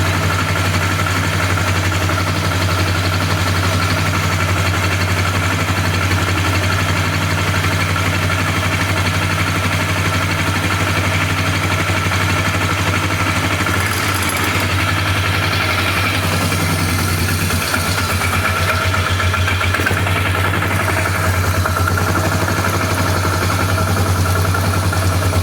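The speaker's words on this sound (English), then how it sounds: "I don't have the top motor mount on, so the motor's kind of jumping around." A flood-damaged Polaris 325 ATV engine running with its top motor mount off, a steady, loud idle with a low rumble and rattling vibration, continuous for the whole stretch.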